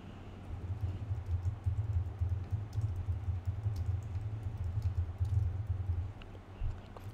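Computer keyboard keys tapped steadily as a campaign name is entered in ad-tracking software, soft close clicks over a low background hum, no talking.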